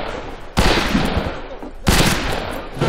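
Loud, close gunshots in the western shooter game Fistful of Frags, with two heavy blasts about a second apart, each followed by a rumbling tail.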